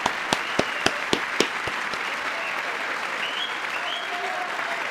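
Applause from the assembled members of Congress during Trump's speech to the chamber: a steady wash of many hands clapping together, with a few sharp louder claps standing out near the start, sustained throughout with no talk over it.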